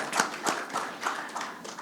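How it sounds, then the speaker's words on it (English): An audience at an education awards ceremony claps for the winners, a short, light burst of scattered handclaps that are fairly close and heard alone. "Please give them a big round of applause for that."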